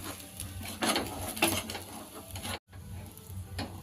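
A dosa fries in a pan with a soft, close sizzle and scraping stir sounds, brief louder bursts early on and a short silent break before the sizzling continues quietly.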